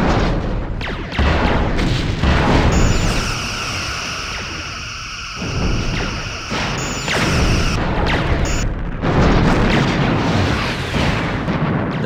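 Torpedo hits exploding on a ship in the Star Trek: Bridge Commander space combat game, loud rumbling blasts that surge and fade in several waves over a continuous roar, with no talk.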